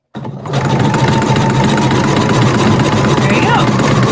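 A sewing machine stitching over rope starts abruptly and then runs at a steady, fast, loud mechanical whir for several seconds, close to the listener.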